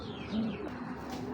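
A racing pigeon gives a single soft low coo, faint and brief against quiet background noise.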